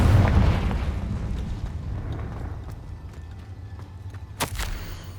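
A Confringo fire spell bursts in Hogwarts Legacy, a heavy boom at the start that rumbles and fades, followed by scattered magical crackles and a sharp burst near the end.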